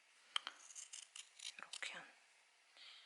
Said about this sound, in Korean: 요거를 이제 가위로 잘라줄 거예요